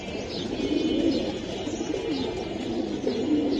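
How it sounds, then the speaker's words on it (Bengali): Giribaz pigeons coo in steady, repeated rolling phrases, fairly close and continuous, with a few higher chirps above; no one speaks. "এই যে আরেক জোড়া কবুতর 17 নম্বরে আছে।"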